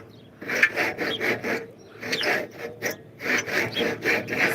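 Hand saw cutting through a tree branch in a front yard, giving a series of close, steady rasping strokes in an even back-and-forth rhythm, about ten strokes in bursts with short pauses.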